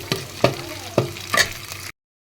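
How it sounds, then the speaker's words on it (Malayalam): Ginger roasts dry in a pan, stirred with a spoon in a few sharp scraping strokes about half a second apart over a soft sizzle, close and clear with no talking. "ഇടയ്ക്കിടയ്ക്ക് ഇങ്ങനെ ഇളക്കി കൊടുത്തില്ലെങ്കിൽ കണ്ടോ അടി പിടിക്കുകയും ചെയ്യും. അപ്പോൾ നന്നായിട്ടൊന്ന് വറുത്തെടുക്കട്ടെ."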